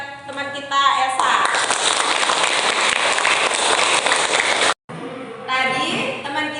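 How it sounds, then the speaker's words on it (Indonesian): Classroom applause for a student who has just answered, a dense burst of many small hands clapping steadily for several seconds, briefly cut off, with a teacher's voice speaking before and after. "Ya, tepuk tangan buat teman kita Elsa."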